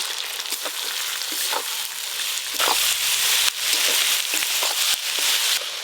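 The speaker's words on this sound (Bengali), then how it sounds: "গোটা গরম মশলা, গোটা গোলমরিচ, গোটা জিরে, পেঁয়াজ কুচি, রসুন বাটা সব একসাথে ভালো করে ভেজে নেব" Whole garam masala, peppercorns, cumin and bay leaf sizzle in hot oil with chopped onion and garlic paste, a dense, steady frying hiss close by, broken by scraping stirs.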